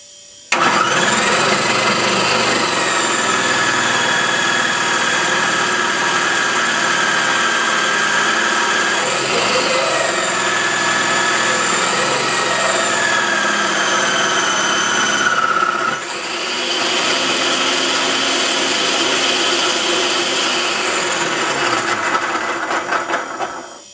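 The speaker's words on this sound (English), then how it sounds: "when we turn this on, it's going to grate the soap down into the food processor" A food processor grates bar soap for homemade laundry detergent, running with a loud, steady motor whine for about fifteen seconds. It dips briefly, then continues before stopping, with no talking.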